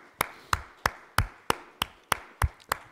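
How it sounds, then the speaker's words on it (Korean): A church congregation claps in unison, sounding nine crisp, evenly spaced claps in a steady rhythm about three per second, close and clear with no other sound between them. "우리 하나님께 감사의 박수."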